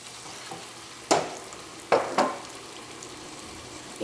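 Chicken pieces drop into a frying tomato curry paste for a Karaikudi chicken curry, giving three sharp sizzling bursts that quickly fade over a quiet background of low frying.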